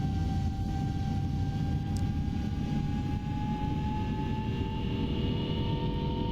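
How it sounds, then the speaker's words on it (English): Simulated airliner engine in a flight simulator running at full throttle on a single engine during a struggling climb, a steady low roar with a constant whining tone, continuous and even with no talking. "because we only run on one engine, we're going to struggle to climb, so it's going to go to full throttle"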